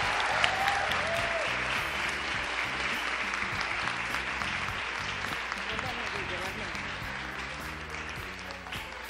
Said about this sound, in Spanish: se merece un aplauso también